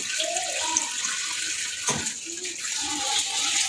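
Running water splashes as fenugreek greens and peas are washed in a large bowl, a steady close gushing stream that carries on throughout.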